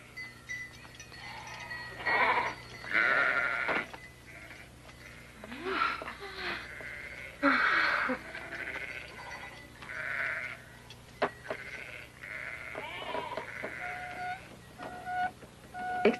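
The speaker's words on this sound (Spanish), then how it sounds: "Aleja a tus cabras hasta que las ovejas hayan bebido." Sheep and goats bleat repeatedly at a desert well, several overlapping calls rising and falling over a busy, moderately close background of milling animals.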